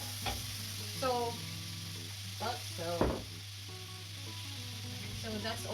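Carbonara ingredients frying in a pan, a soft steady sizzle under a low hum with occasional stir clatter, while a person talks over it intermittently.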